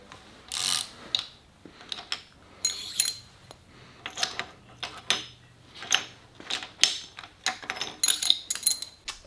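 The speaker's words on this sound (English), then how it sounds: "I'm going to break all these loose so I can pull the push rods out." Ratchet wrench clicking while loosening bolts on a 1968 Pontiac 400 V8 engine during a teardown: repeated close bursts of quick metallic ratcheting clicks, one after another in an uneven rhythm.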